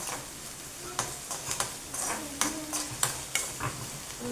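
Onions and tomatoes are stirred in a pan, with a spoon scraping and tapping in irregular clicks over a soft, low sizzle, fairly quiet and close.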